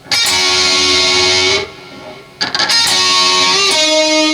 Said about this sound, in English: quarter step bend, real slight, sounds like this.